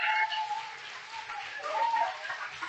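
A church congregation breaks into applause, a dense wash of clapping spread across the room, fairly loud and steady, with a few voices calling out over it.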